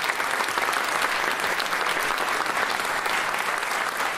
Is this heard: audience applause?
yes